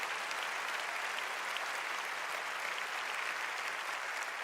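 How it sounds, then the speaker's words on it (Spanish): Congregation at a church service applauding, a steady, continuous roar of many hands clapping at an even level throughout, with no speech over it. "Dale un fuerte aplauso a Jesús."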